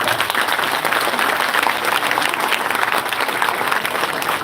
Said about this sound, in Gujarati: તો તાળીઓ પાડો.